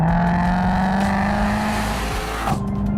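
A Ford Mustang CS850 GT with nearly 900 horsepower roars loudly as it accelerates hard, its engine note climbing steadily before a sharp shift near the end.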